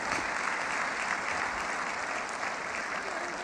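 Dense, continuous audience applause at a motivational speaking event, many hands clapping at once with an even, full roar throughout, no voices breaking through.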